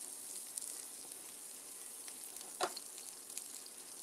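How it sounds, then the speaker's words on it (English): Salmon sears in hot oil in a nonstick pan with a faint, steady sizzle and a soft clatter partway through, quiet and even throughout. "For a good sear, hot oil, nonstick pan, and kind of leave it."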